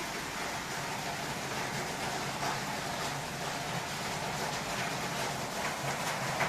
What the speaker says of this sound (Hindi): बहुत जोर से बारिश हो रही है